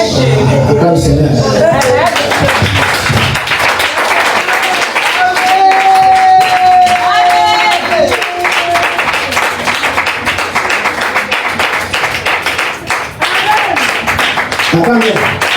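Church congregation applauding and cheering together during a service, dense sustained clapping under loud voices and a preacher's talk, with a brief tonal whine in the middle.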